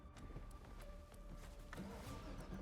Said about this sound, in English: nothing like a supercharged V8. The sound of this thing is.